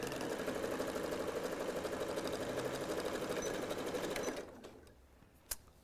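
A sewing machine stitching a quarter-inch seam with a back stitch on a reversible sun hat, a fast steady close whirring chatter for about four seconds that then stops, followed by a brief click.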